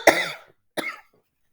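Two separate coughs from a person, a longer harsh one followed by a shorter one, close and fairly loud with quiet between them and no talking.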